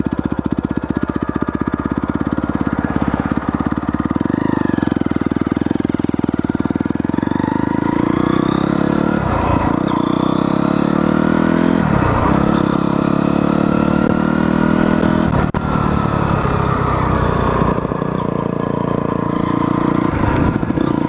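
A Honda CRF motorcycle engine runs loudly nearby, idling steadily with several sharp revs rising and falling throughout.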